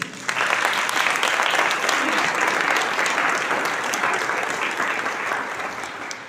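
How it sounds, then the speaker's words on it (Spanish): A church congregation applauds during a Sunday service: dense, steady clapping from a large crowd that holds at full strength for about six seconds before easing slightly at the end. "denle un aplauso al Señor"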